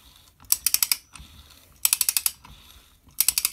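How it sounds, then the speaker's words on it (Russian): Bursts of rapid ratchet clicks from a large torque wrench tightening a bolt, three loud clustered runs of clicking separated by brief pauses, close and alone with no talk. "Опять кручу динамометрическим ключом."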